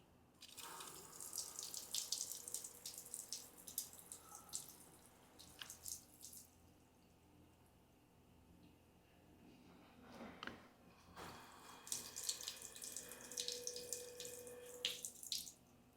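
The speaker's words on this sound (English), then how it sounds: "Now let's move on to the pressure washer hose." A pressure washer hose sprays water onto a ceramic-coated car during a hydrophobic test, a continuous hissing gush that swells and eases in bursts over the whole stretch, fairly close and with no talking.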